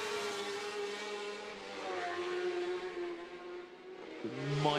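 Racing motorcycle engine held in second gear at the Macau Motorcycle Grand Prix street circuit, a sustained tonal drone that rises and falls slightly, heard from a distance, with a sharper shift near the end.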